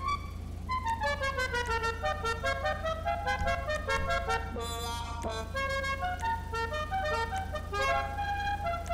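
A Declasse Vigero ZX convertible in GTA Online plays a musical car horn, a steady run of stepping tuned notes sounding continuously and clearly over a low engine hum, with no talk.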